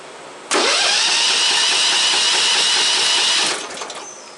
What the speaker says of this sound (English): and it should turn the engine over.